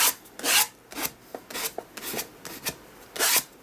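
A plastic bank card scrapes paint across an art journal page in repeated short rasping strokes, close and fairly loud, with brief pauses between drags and no talking.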